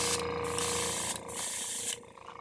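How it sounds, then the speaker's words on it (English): Airbrush hissing out Wicked Silver paint at turned-down pressure, a bright steady spray in three bursts separated by short gaps. "I turn the pressure down on the airbrush so it's not too high."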